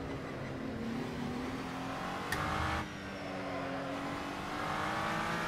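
All-carbon Scuderia Glickenhaus GT3 race car in Assetto Corsa drones steadily at high revs, with a brief sharp shift blip midway and a slight dip before the engine climbs again; loud and continuous, no speech.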